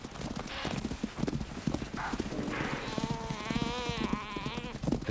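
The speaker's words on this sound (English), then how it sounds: "The chaser can hear the desperate bleat of a topi." A topi antelope bleats desperately while lions attack on the savanna, a wavering cry rising over heavy thudding hoofbeats and scuffling of the struggle, fairly close and loud.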